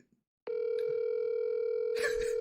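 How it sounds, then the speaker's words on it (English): A telephone dial tone starts abruptly after a brief quiet moment and holds steady and clear at an even level, with a faint voice briefly heard over it near the end. "I'm calling."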